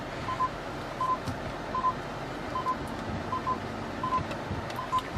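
Rapid repeated beeps from an aftermarket FenSens backup parking sensor sound in regular pairs over engine and road rumble while a car parallel parks, with no talk.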